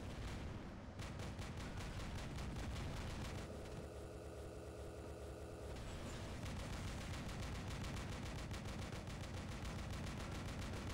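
Robot machine guns fire in the War Robots video game, with dense rapid bursts of gunfire running steadily throughout, accompanied by mechanical engine hum and occasional heavier impacts.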